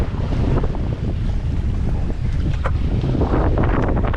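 Strong wind roars across a sailboat riding roughly four-foot waves at 16 to 18 knots near the eastern edge of the Gulf Stream, with loud continuous gusting, microphone buffeting and splashing water throughout.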